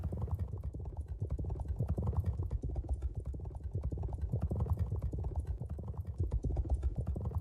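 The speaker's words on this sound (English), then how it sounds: "Hopefully you fed your horses. And off we go racing." Galloping horse hooves during a two-minute horse race, a dense, steady drumming of clip-clop beats running continuously and fairly loud throughout, with no talk over it.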